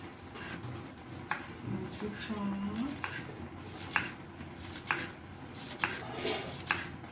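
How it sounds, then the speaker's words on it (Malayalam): Spring onion stalks being finely chopped on a board for vegetable Hakka noodles, a run of sharp knife taps at an irregular, unhurried pace under a quiet room background. "കുറച്ച് ഉള്ളിത്തണ്ടാണ് കേട്ടോ അടുത്തത് അത് നമുക്ക് ചെറുതായിട്ട് അരിഞ്ഞെടുക്കാം"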